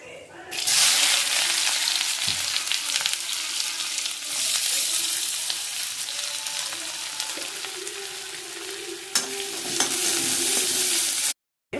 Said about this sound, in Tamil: ஒரு பெரிய வெங்காயத்தை கட் பண்ணி வச்சுருக்கேன், அதையும் அதில் போட்டு பாதி அளவுக்கு வதக்கி எடுத்துக்கலாம்.